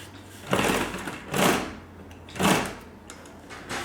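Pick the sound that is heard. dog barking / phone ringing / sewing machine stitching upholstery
sewing machine stitching upholstery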